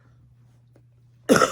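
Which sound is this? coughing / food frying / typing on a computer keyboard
coughing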